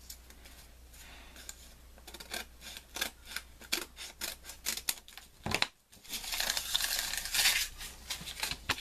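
Scissors cut through paper craft material in a rapid series of close, crisp snips, with rustling and crinkling of the sheet toward the end.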